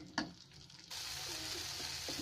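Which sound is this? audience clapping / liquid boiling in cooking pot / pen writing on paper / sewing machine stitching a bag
liquid boiling in cooking pot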